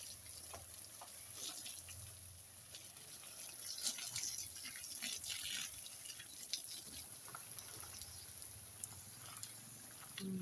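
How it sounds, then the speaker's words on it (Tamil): Water is poured over potted plants, a continuous soft splashing and trickling with scattered drips, close and low in level, steady throughout with no talking. "எல்லா செடிகளுக்குமே தண்ணீர் விட்டாச்சு."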